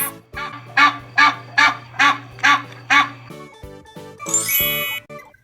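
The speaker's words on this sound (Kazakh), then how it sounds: "goose" A goose honks about six times in an even rhythm, loud and close, followed by a brief chime-like jingle at the end.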